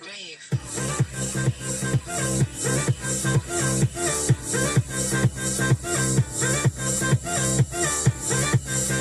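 Loud music pumps from a custom Chevy Colorado truck's stereo with two RT10 subwoofers, heavy bass beats hitting in a steady rhythm with bright synths on top, slightly distorted.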